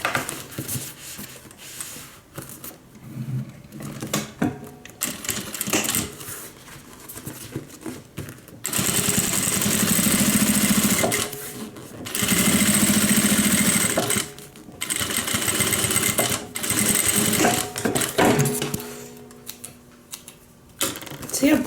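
A sewing machine stitches fabric for an airliner-style cabin bag in rapid mechanical bursts, a steady buzzing whir that starts and stops several times, close and loud, with quiet pauses between runs.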